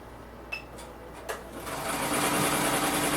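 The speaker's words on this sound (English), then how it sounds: "We've had a lot of customers worry about the sound of the commercial machine." A Blue Sky commercial embroidery machine starts up after a couple of faint clicks, then settles into a steady, whirring mechanical hum with a fast stitching rhythm, moderately loud and close.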